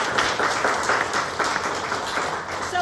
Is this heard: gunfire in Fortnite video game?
no